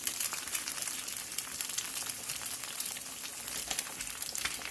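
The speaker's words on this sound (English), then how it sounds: "So you're going to cook the egg on top of the pat of melted butter." An egg frying in a pat of melted butter, a close, steady crackling sizzle with small popping bursts that continues evenly throughout, with no one talking.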